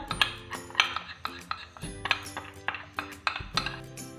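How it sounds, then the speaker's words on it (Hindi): Sugar and cornflour are stirred in a bowl, the spoon scraping and clinking against its side in quick, uneven taps, close and moderately quiet. "इसको मिक्स कर लें ड्राई इंग्रेडिएंट्स को।"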